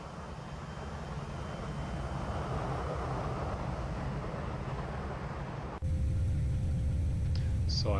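Airliner jet engines roar in a flight simulator during the takeoff run from Frankfurt, a steady broadband rush that swells and then jumps louder with a sharp change near the end.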